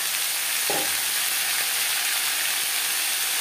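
Bottle gourd peel and yardlong beans stir-fry in a pan, giving a loud, constant sizzle with a brief clatter of the spatula against the pan near the start.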